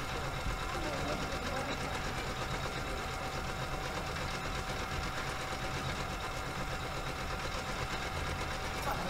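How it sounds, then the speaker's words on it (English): An embroidery-class sewing machine runs with a steady, even mechanical whir that continues throughout, while people talk over it. "How many women did you take to fix the sewing machine?"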